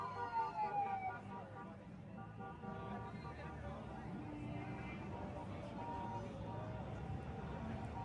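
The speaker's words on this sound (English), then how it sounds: "They've got that PA horn that I have with that siren on it" A wailing electronic siren from a portable PA horn sweeps up and down at a protest outside Ottawa's Parliament, moderately distant, blending with crowd and street noise.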